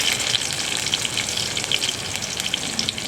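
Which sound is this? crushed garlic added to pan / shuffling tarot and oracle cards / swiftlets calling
crushed garlic added to pan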